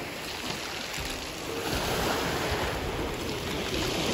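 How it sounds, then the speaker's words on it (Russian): A big winter wave on the Black Sea shore at Sochi crashes and surges onto the beach, a loud, continuous roar that swells after the first second and a half, with wind buffeting the microphone. "Волна идет большая."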